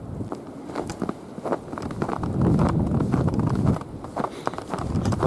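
Night blizzard wind gusting against a microphone outdoors in snow, a steady loud rumble with buffeting swells and scattered thumps throughout, no one speaking.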